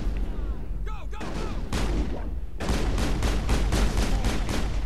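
Shotgun fire in the Mass Effect video game booms in a series of loud blasts over a busy combat soundscape, with voices talking underneath.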